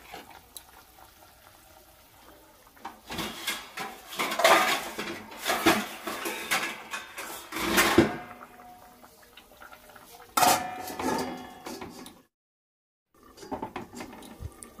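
A pot of potato curry is set onto a home kitchen stove: a run of metallic clanks and scrapes of pot against burner and utensils, loud and close in bursts, with quiet gaps between and a brief silence near the end.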